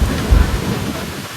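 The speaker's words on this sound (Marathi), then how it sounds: "इथे वादळी पाऊस चालू झालेला आहे" Thunderstorm with heavy rain pouring steadily, a low thunder rumble swelling early then fading, loud and close throughout with no talk.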